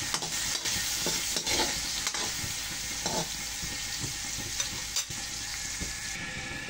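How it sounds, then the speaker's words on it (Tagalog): Sliced chili peppers fry in a pan with a steady, loud sizzle, and a spoon scrapes and stirs at irregular intervals throughout. "Lagay natin ang ating sili. Hiniwa talaga yung sili, no?"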